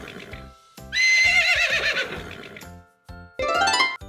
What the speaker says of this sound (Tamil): நான் தான் குதிரை. வேகமா பாய்ந்து ஓடுவேன்.